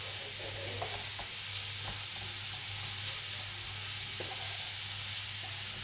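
Potatoes and onions sizzle steadily in a frying pan while a utensil stirs them, with scattered scraping knocks over the constant close hiss.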